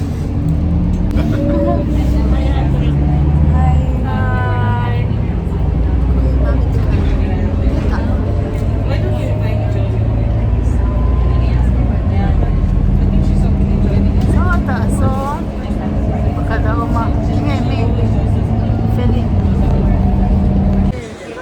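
Inside a moving public bus: a constant loud engine and road rumble fills the ride, with people talking and chattering nearby throughout.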